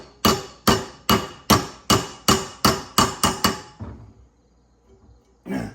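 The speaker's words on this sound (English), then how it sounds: "So I'm gonna go ahead and center punch these and try to drill it." A hammer strikes a center punch into dirt bike brake rotors ten times in a steady, close, sharp metallic rhythm, then a pause with a faint clink and one final strike.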